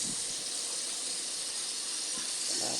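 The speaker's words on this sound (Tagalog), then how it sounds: "Parang ginigisa ko lang siya." Bangus (milkfish) sautéing in a pan for paksiw adobo, a steady broadband sizzle and hiss held at even loudness throughout, close and continuous, with faint kitchen clatter underneath.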